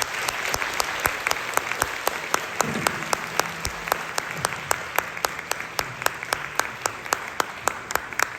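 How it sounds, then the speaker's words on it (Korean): Audience applause at a Korean lecture event marking the 150th anniversary of President Syngman Rhee, a steady roomful of clapping that holds evenly throughout with no speech over it. "다시 한번 뜨거운 박수 부탁드리겠습니다"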